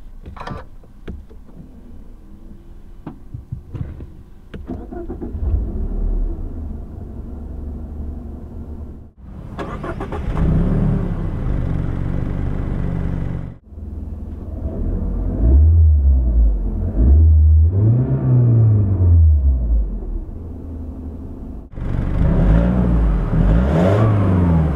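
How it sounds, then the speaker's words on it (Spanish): Faint clicks and a quiet hum give way to a Mazda 3 Sedan engine starting, then a low, quiet idle with a few gentle revs rising and falling. "Es un motor tremendamente silencioso cuando está a modo ralentí"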